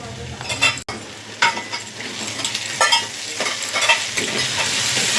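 Ginger garlic paste fries in hot oil in a pan while being stirred, giving a steady close sizzle broken by repeated scraping strokes of a spoon against the pan.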